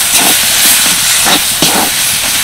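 Taro leaf sour dish is stirred in a hot pan, giving a loud, steady steamy hiss with faint scraping strokes of the spatula across the whole stretch.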